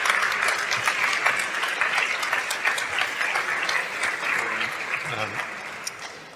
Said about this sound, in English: a round welcome of applause for Steve Horvath